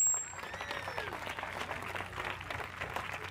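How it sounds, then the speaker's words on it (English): Applause from the audience at the Poarch Band of Creek Indians Thanksgiving pow wow, a steady patter of many hands at moderate distance with a faint tone at the start and murmuring voices beneath. "let's give the staff of the Calvin McGee Cultural Authority a round of applause"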